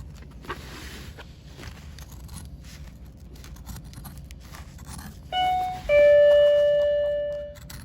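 A loud bell rings twice in a workshop, a short first strike and then a longer ringing tone that slowly decays, standing well above faint background handling noise.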